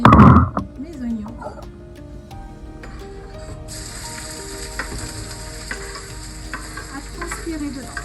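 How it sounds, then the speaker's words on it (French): Onions tipped into hot olive oil in a wok, a loud initial clatter and burst, then a continuous bright, even sizzle settling in with faint stirring, no one speaking. "Donc je mets mes oignons."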